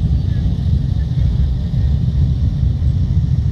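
Ontario Provincial Police Golden Helmets motorcycle team circles in a wheel formation at Blue Mountain. Their engines make a steady, dense, low rumble throughout, close and fairly loud, without pauses.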